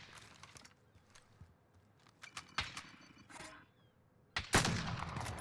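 Gunfire from an online shooter game called Rebirth comes as scattered bursts and single cracks, growing louder and denser toward the end, heard alone without talk over it.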